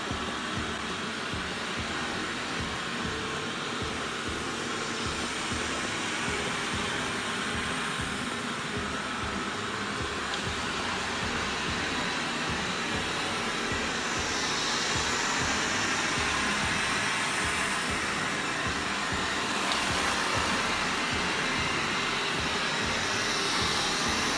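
A Xiaomi S20+ robot vacuum cleans a set zone indoors, running first around the edge of a square and then across the centre. Its motor and brushes give a steady, continuous whir close to the listener, with no speech over it.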